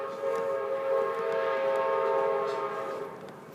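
A train horn sounds one long, sustained, loud blast with a steady harmonic tone that fades slightly near the end. No one speaks over it.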